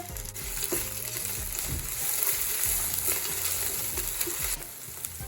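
A steady, dense sizzle of crushed ginger garlic paste frying in hot oil, with occasional soft stirring scrapes, close and continuous throughout.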